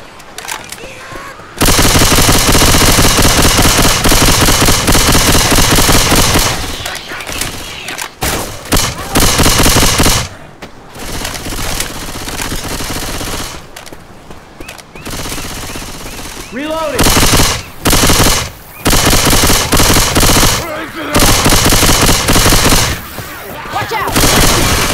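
Sustained, loud bursts of automatic machine-gun fire from the zombie shooter Left 4 Dead 2 rattle almost continuously, broken by a few short pauses, with occasional shouted voices mixed in.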